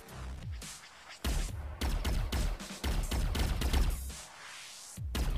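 Rapid bursts of blaster gunfire in the space shooter Space Jet Galaxy War, dense and loud, with repeated sharp shots in clustered volleys and short gaps between them.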